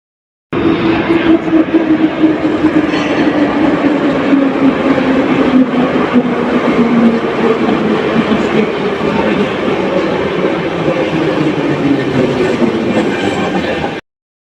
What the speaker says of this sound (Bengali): এটা মাটির তলা থেকে মেট্রোটা উঠে এই ওপরে আসছে